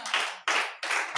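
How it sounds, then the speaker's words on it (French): A church congregation claps in unison, three loud, sharp bursts of rhythmic hand clapping in quick succession, close and alone without talk. "applaudis pour le Seigneur"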